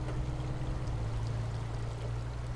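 A truck in SnowRunner drives through a shallow stream of water, giving a steady rushing, splashing wash over a low engine drone, continuous and fairly loud with no talk.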